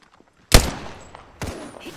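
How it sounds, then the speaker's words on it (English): Gunfire aimed at the player in the video game Apex Legends: a sharp, loud burst of shots followed by a second volley about a second later, with a brief ringing tail between them. "They're shooting at me."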